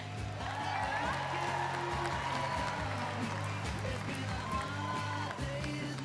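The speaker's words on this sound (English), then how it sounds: "Let's have one more big round of applause for all of our banners and our 10 banner winners." A crowd gives a round of applause for banner winners at an event, sustained clapping under steady background hum and faint voices throughout.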